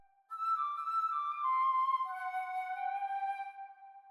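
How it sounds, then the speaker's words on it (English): Flute entering an octave above a clarinet melody in a gentle orchestral demo score; sustained woodwind lines glide through a few held notes, soft and clean, with no talking. "you can hear the flute there joins in an octave above the clarinet with that last part of the"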